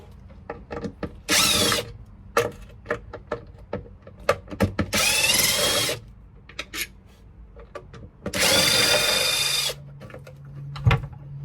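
Power drill backing out the three or four screws holding a Gemlux latch, with three separate bursts of high whirring roughly a second or more each, separated by small clicks and handling taps, close and loud.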